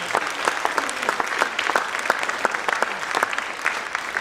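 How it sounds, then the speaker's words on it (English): An audience at an NAACP youth Black History event breaks into steady, sustained applause, a dense patter of many hands clapping at moderate loudness with no voices over it. "let us give her a round of applause in her absence"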